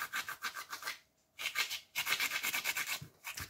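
Dry, rhythmic rubbing and crunching of cumin seeds between palms, in quick bursts with a brief pause, close up.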